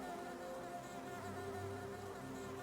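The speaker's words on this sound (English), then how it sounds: "Look at all those bees" Bees buzzing in Hollow Knight, a steady, faint, droning hum that holds without pause and with no voices.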